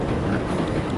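A loud, dense rumble fills a Kintetsu electric train travelling toward Nara, a steady low roar of wheels on track with no distinct beats, heard close from inside the car, with no talking.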